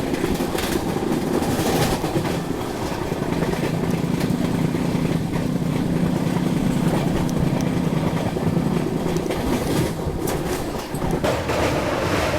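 The Kashi Tamil Sangam Express, an Indian express train, runs at about 130 km/h, heard as a steady, loud rumble and roar with rhythmic clattering of wheels over the rails, continuous throughout with no voices.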